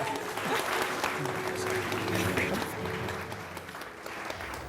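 Clapping from guests at a wedding ceremony, a steady spread of many hands heard from a distance, fairly faint, with murmuring under it and a brief louder sound at the very end.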